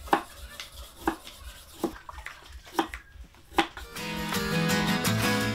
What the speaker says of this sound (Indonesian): Selesai dicuci bersih, potongan hubei dipotong lebih halus